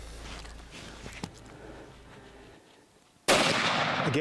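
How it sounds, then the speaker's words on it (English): A single loud rifle shot at a buffalo on an African hunt, a sudden close blast with a long ringing tail after a quiet lead-in of faint bush noise and a small click. "Okay, I want you to shoot him from here."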